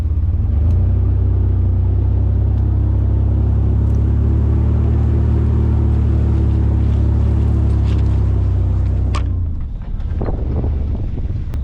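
A vehicle drives through tall pasture grass, making a loud, constant low rumble with wind buffeting the microphone that drops away near the end and leaves faint rustling and clicks.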